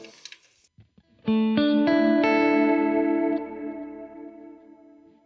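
Electric guitar played through a Kemper Profiler with modulation and dual delay: a few faint muted picks, then a series of bright chords ringing out with a wavering chorus-like shimmer and echoing delay tails that slowly fade.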